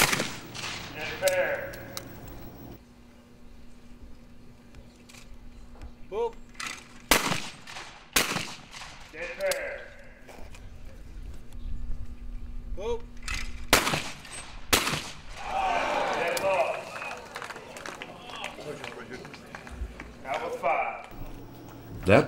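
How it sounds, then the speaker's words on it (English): Caesar Guerini shotguns fire in a two-man English sporting shootoff at a World English championship final, giving several sharp, loud reports at irregular intervals under a commentator's voice and outdoor background noise. "Richard Falls seems to be shooting his Caesar Guarini quite well."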